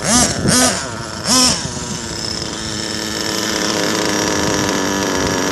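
A nitro RC monster truck with a modified LRP .32 engine idles loud and close, a steady buzzing drone after a couple of brief revs at the start, with no talking.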